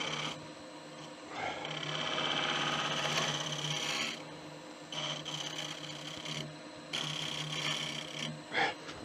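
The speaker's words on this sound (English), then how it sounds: "that's as far as I can get with a side bevel cut" Woodturning gouge making a side bevel cut on a spinning tamarind bowl on a lathe, a steady rasping, scraping hum in long sustained passes with brief pauses, close and fairly loud.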